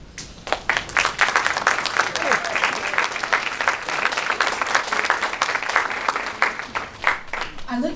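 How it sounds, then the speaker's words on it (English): An audience at a school program induction ceremony in an auditorium applauds returning members. Many hands break into clapping after a brief pause, building to a sustained, lively round that tapers near the end, with some crowd murmur mixed in. "let's give them a round of applause"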